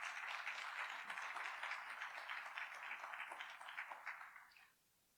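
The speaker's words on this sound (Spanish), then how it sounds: "Démosle un fuerte aplauso a Héctor, por favor." Sustained applause from a conference audience welcoming a panel speaker, a dense even patter of many hands that holds steady for several seconds, then fades and stops.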